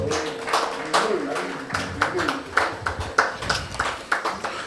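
Audience at a criminal law review conference gives another round of applause after a speech, with distinct individual claps standing out over a murmur of voices and a faint tone.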